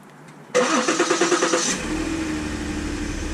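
After a moment of quiet, a starter motor cranks in a quick pulsing rhythm for about a second, then the car engine catches and settles into a steady idle without rattle after a timing chain repair.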